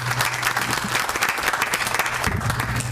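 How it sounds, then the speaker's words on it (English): Loud, continuous applause fills a community board meeting hall at a Jewish center, many people clapping steadily, with a low hum underneath and a few louder individual claps standing out. "I'm asking for a round of applause for Wayne Rosenfeld and the East Midwest Jewish Center for hosting us"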